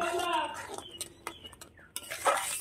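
Mango jelly mixture, thickened with chilli powder, stirred in a pot with a spoon, giving soft scraping swishes and light clinks of utensil against metal, close and moderately loud with short pauses between strokes.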